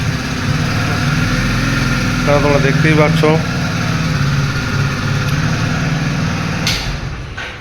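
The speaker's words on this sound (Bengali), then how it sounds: "আর এর ইঞ্জিন সাউন্ডটা একবার শুনিয়ে দেবো আমি, এর ইঞ্জিন সাউন্ডটা কেমন" A Hero Splendor Plus 125 motorcycle, a 2026 BS7 model with eABS, idles with a steady, low engine drone. Someone talks over it throughout.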